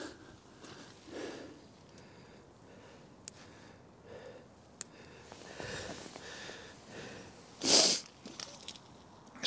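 Close, heavy breathing with several sniffs and snorts against cold wind noise on an estuary beach while fishing, one loud sharp burst near the end.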